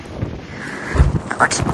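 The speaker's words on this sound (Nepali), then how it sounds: "एकदमै चिसो हावा लागिरहेछ" Cold wind gusts against the microphone in low, uneven rumbling bursts, swelling loudest around the middle and again near the end, in Nepal's Mustang region.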